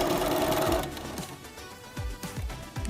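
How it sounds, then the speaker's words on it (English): A sewing machine stitching a clothing hem, starting with a fast continuous whirring run, then slowing into a few separate short bursts of stitching with soft mechanical thumps between them, close and clear. "I'm gonna sew a couple stitches."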